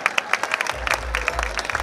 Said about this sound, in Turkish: Murat Kağan'a kocaman bir alkış göster.